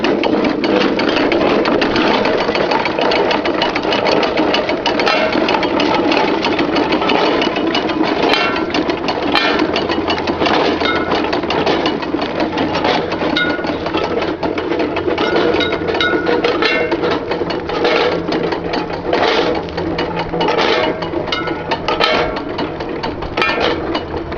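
An early 1900s Buch's two-hole corn sheller turned by hand, its iron mechanism giving a continuous loud rattling whir that stays steady throughout, with no voices.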